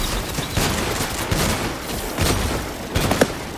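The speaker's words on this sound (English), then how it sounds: "Bro, what is this shotgun?" Shotgun blasts ring out in the shooter game Off the Grid, several booming shots spaced irregularly amid a busy, noisy battle.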